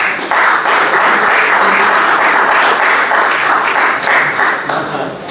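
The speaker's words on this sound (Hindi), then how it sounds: "जोरदार तालियां हो।" Loud, dense applause from an audience at a journalism award ceremony in India, a steady wall of clapping that holds for several seconds and trails off slightly at the end.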